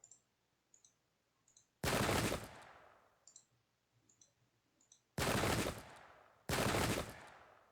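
Three loud musket volleys crash out in Pike and Shot, each a dense burst of massed shots, separated by quieter stretches with faint distant clicks and pops, no talk over them.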